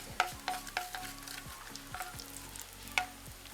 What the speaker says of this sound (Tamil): கொஞ்சம் கடுகை போடுவோம்.